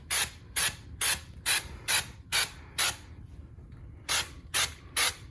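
Drywall mud sprayed onto a wall for an orange peel texture comes in a regular series of short hissing bursts, about ten in quick rhythm with one brief pause, close and moderately loud with no talking.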